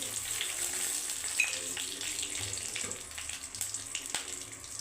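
A dried red chili and a little panch phoron crackle in hot oil for a cauliflower and rohu fish curry, a steady close sizzling hiss with faint pops and a low hum underneath.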